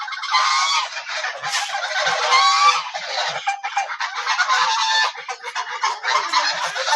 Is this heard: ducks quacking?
yes